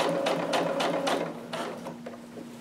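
A domestic sewing machine stitches a garment seam in several short bursts of rapid mechanical whirring, separated by brief pauses, close and moderately loud.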